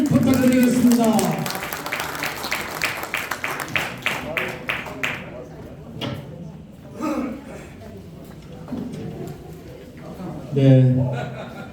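An audience at a new-year workshop claps warmly for the Seongbuk district mayor, a burst of applause that fades under a host's talk, with a short bit of laughter and more clapping near the end.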